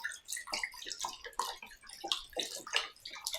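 Water is poured into a pot of beef stew with vegetables, giving a fairly quiet, uneven run of splashes, gurgles and drips.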